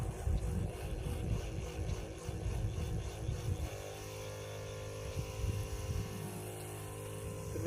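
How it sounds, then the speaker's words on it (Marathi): A farm pump is started for drip irrigation of crops, its engine running with a steady low hum and chugging that shifts into a smoother, more tonal drone partway through. "पंप चालू करूया."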